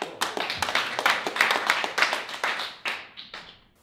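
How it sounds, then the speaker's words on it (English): Applause from an audience welcoming a speaker named Nick to the stage at a retreat presentation, dense clapping building and then thinning out into scattered claps that fade away. "So big round of applause for Nick."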